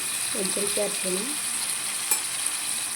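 Tomatoes frying in hot oil for a Kannada avarekalu palya, a steady soft sizzle with a brief stirring scrape partway through and faint background hum, no talk.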